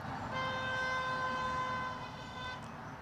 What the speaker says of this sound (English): I don't think they were hooting me, I think it was a little bit of road rage.